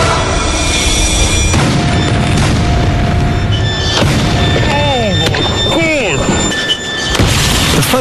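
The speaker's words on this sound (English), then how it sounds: "Focus is obliterated on impact." A Ford Focus smashing into a barrier in a 190 km/h crash test: a loud, dense burst of booming impact and tearing metal with squealing, screeching debris noise throughout, close and sustained.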